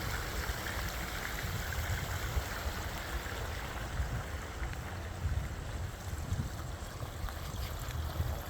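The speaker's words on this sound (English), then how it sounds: "This is the double spillway bowl fountainscape." Water pours steadily through a double spillway bowl fountain in an outdoor fountainscape, a continuous rushing, splashing wash that stays loud and even throughout, with a breezy outdoor rumble underneath and no talking.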